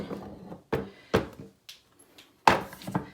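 A drawer holding jewelry is handled, giving several separate short wooden thunks and clacks spaced irregularly, close by in a quiet room.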